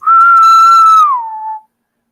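A human whistle imitating the precise mating call of the male of the largest Brood X cicada species: one loud, sustained, clear tone that bends downward and stops after about a second and a half, then silence.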